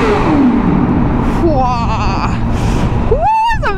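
A motorcycle engine idles roughly, then revs up in rising bursts, the last one climbing sharply, loud and close.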